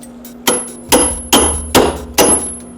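Five loud, sharp metallic hammer blows on a part of a 2005 Mercedes SLK 350 ring out at a steady pace, each one clanging and then decaying before the next.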